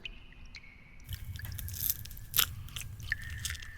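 Wet chewing and crunching from a creature's mouth, used as a sound effect in a Spanish-language horror audio drama: close, irregular bites and squishes with sharp crisp clicks, quiet at first, then building.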